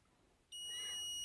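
A digital multimeter testing a capacitor on a circuit board gives one steady high-pitched electronic beep that starts suddenly and holds, close and clear over a faint background hiss.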